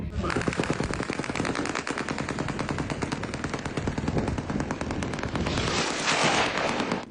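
Rapid machine-gun fire in a rattling, steady stream of tightly spaced shots, loud and continuous from start to finish, with a brief burst of noisier crackle near the end.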